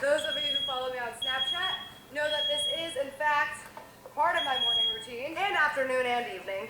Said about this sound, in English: I also hate when the fire alarm goes off